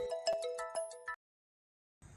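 A phone ringtone for an incoming call plays a bright, melodic run of tones for about a second, then cuts off to silence before a faint rustle.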